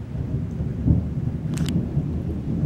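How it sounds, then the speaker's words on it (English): Low thunder rumbles continuously beneath a steady wash of rain, with a couple of brief sharper crackles partway through. "Still storming, still slightly raining,"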